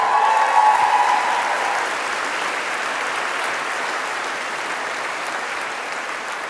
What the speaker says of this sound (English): can we have a quick clap for graphic design?